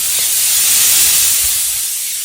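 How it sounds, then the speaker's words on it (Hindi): A pressure cooker, already taken off the stove in the evening, vents steam through its opened whistle as a loud, continuous close-up hiss that barely varies for over two seconds, with no speech. "और आपने अलग से शोर मचाया हुआ है कुकर का।"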